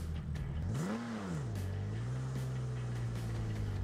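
A BMW E36 engine revs in a video game, rising sharply then settling into a steady drone, loud and continuous with no talk over it.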